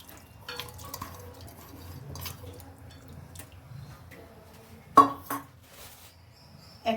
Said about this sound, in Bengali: এবার হাঁড়িতে ডালটা দিয়ে দেবো।